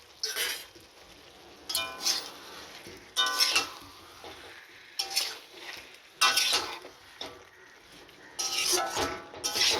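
Fried potatoes and chicken for a milk chicken curry are sautéed in a pan, with repeated bursts of spatula scraping and clatter against the metal over a faint sizzle, close by.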